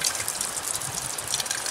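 Strong water jet forced out of an unclogged Sawyer water filter as the pouch is squeezed, a continuous hissing gush close by with no pauses.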